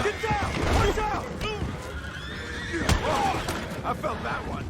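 Horses in the Red Dead Redemption 2 video game whinny and neigh repeatedly amid clip-clopping hooves and busy game action, with voices speaking over the animals throughout.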